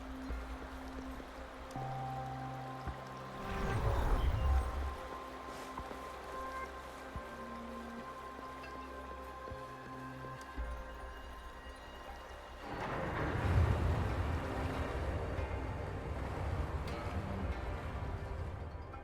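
Water draining away in the video game Wuthering Waves, a soft steady trickling flow that swells in two louder gushing surges, with faint tonal game music underneath and no talk.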